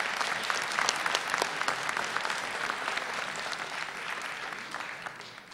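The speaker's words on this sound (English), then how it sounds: "let's give these three an excellent applause" Community event audience gives a warm round of applause, a steady crackling mass of clapping hands at moderate distance, sustained evenly from start to finish without speech.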